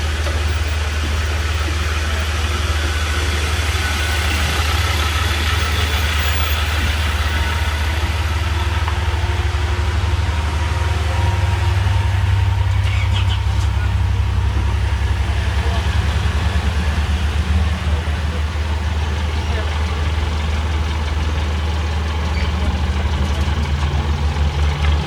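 Car engine idling and pulling away through open ferry gates, a steady low rumble throughout with a brief rise partway, while people talk faintly in the background.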